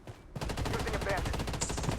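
Assault rifle fire in the Bloodstrike shooter game, a rapid automatic string of shots that stays fairly quiet and continues steadily, with a faint voice underneath.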